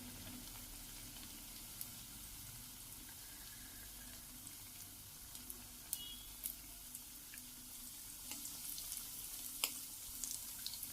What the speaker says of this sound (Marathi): मंद आचेवर तळून घ्यायचे.